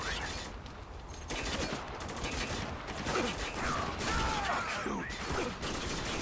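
Dense gunfire in the war game Spec Ops: The Line: rapid bursts and single shots crackle one after another, with mechanical clatter and shouted voices mixed into the firefight.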